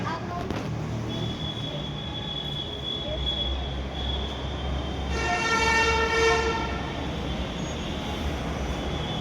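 A mini metro train rumbles steadily along the rails, with a rising metallic squeal and harmonic whine partway through, heard close up from inside or beside the carriage.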